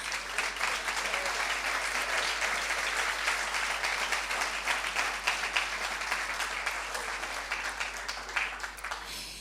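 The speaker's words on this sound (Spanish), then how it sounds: "Dele un aplauso al Señor en esta mañana" A church congregation applauds during a morning service, with sustained dense clapping from many hands that holds steady for several seconds at moderate distance, with no talk over it.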